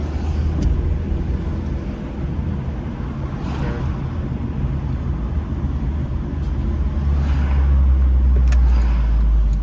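A car driving through Philadelphia city streets near 17th and Cambria toward Indiana Avenue, a continuous close engine and road rumble that swells slightly louder toward the end.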